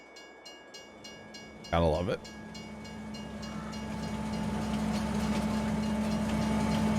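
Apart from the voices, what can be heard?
train passing in video game Farming Simulator 22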